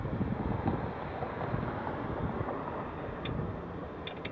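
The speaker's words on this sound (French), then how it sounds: "c'est froid, le vent" Cold wind blowing outdoors on Île des Soeurs, a continuous low buffeting roar against the microphone with gusty fluctuations, and no talk.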